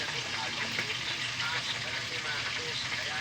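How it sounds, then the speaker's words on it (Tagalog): Fish frying in a pan gives off a steady, continuous sizzle and crackle at moderate level, with faint talk in the background. "Prito na lang mga kanter."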